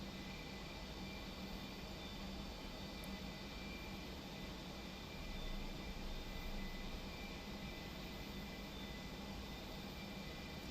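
An A-4E Skyhawk jet in flight in the DCS flight simulator makes a steady, even engine roar with a broadband whoosh, constant and unbroken, with no voices.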